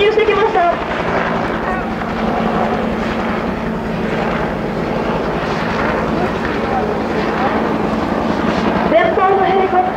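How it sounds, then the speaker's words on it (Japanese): A UH-1 military helicopter carrying ranger troops flies in during a mock combat drill at the Koga garrison anniversary event. Its engine and rotor drone loudly and steadily, with a voice talking over it throughout. "レンジャー部隊を乗せたヘリが侵入してきました。"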